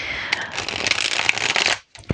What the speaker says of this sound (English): I'd like to shuffle the cards